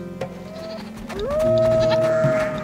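Goats bleat in a scene from the game Going Medieval, a drawn-out wavering bleat rising over soft background music and small clicks.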